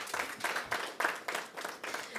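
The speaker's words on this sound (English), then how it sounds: "So let's give her a round of applause." A press conference audience claps, faint and fairly distant, with a soft, steady wash of applause that pulses slightly over about two seconds.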